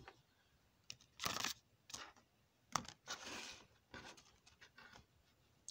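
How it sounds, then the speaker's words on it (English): A deck of tarot cards being cut by hand, giving several quiet papery riffles and soft slaps in bursts, close and fairly faint, with no talking. "let me cut them because I've already shuffled them"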